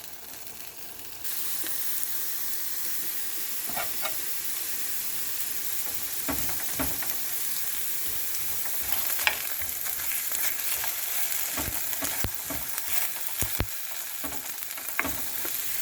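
Potatoes frying on a tawa give a continuous close sizzle with scattered crackles and spatula scrapes, steady and moderately loud throughout, with no talking.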